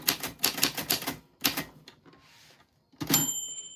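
Rapid typewriter keystrokes clack in quick bursts, then pause, then more strikes before a bright ring of the carriage bell chimes at the end.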